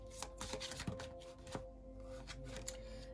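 Tarot cards being shuffled quietly and close, a series of soft papery riffles and taps in irregular bursts.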